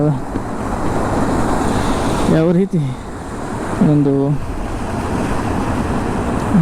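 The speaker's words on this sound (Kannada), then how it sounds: "ಅರ್ಕಾವತಿ ನದಿಯ ನೀರು ಯಾವ ರೀತಿ ಈ ಒಂದು ಬ್ರಿಡ್ಜಿನ ಮುಖಾಂತರ ಧುಮುಕಿ ಹೋಗ್ತಾ ಇದೆ" Arkavathi river water plunges through a bridge near Kanakapura, making a loud, continuous rushing roar that fills the scene, while someone talks over it.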